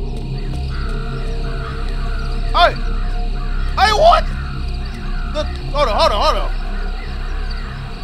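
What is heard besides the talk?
birds cawing in video game Chilla's Art The Kidnap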